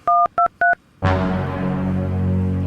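Three quick keypad beeps of a mobile phone being dialed, followed by a sustained buzzing tone.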